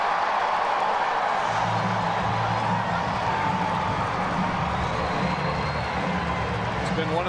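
A crowd of baseball fans cheers at a 2009 Yankees game in Kansas City, a broad, steady roar of many voices running beneath a commentator's talk.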